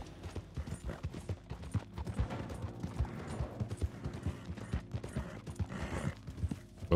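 Rapid, uneven hoofbeats clip-clop continuously, like a horse galloping hard, loud and close throughout, in the video game Red Dead Redemption 2 Online.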